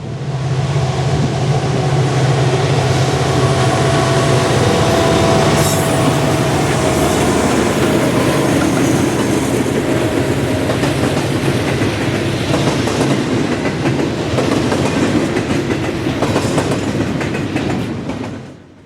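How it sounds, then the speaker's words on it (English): Norfolk Southern freight train NS22X, led by two locomotives including an EMD SD70 rebuild, rolls past trackside at Northfield on the Cleveland Line, a loud, long passage of clattering wheels, rumbling cars and occasional squeals that fades at the end. "Heading my way was NS22X with 2 units and a massive train today."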